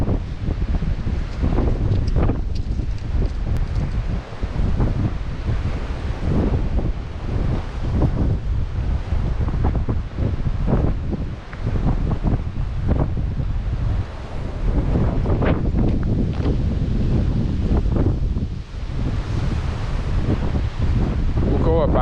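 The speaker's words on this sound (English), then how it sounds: "right now we got some straight winds coming towards us" Strong wind buffets the microphone outdoors in San Francisco, a steady loud roar with gusty surges that runs the whole time and swamps everything else.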